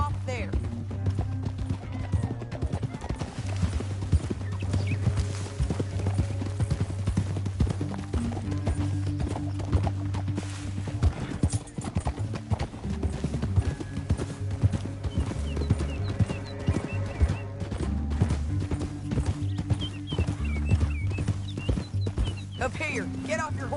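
Horse hooves clip-clop at a steady gallop in the video game Red Dead Redemption 2, running continuously beneath voices and a low droning score.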